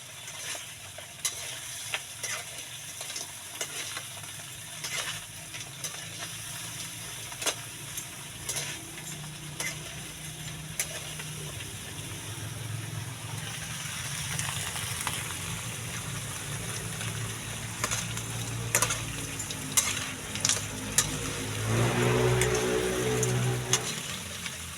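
Steady sizzling of food frying in a small wok, with oil crackling and the scrape and clatter of stirring throughout and a louder hiss near the end, no voices.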